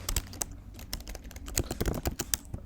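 Rapid, uneven keystrokes on a computer keyboard clatter close up in steady bursts, with no voices over them.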